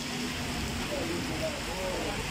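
Steady rain hisses down on a parked motorbike, with faint voices murmuring in the background.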